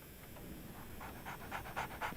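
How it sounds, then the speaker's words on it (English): A dog pants in the Sherlock Holmes The Awakened video game, quick rhythmic breaths that grow louder and faster toward the end, close by over a faint background hum. "So, Barnes has a dog now."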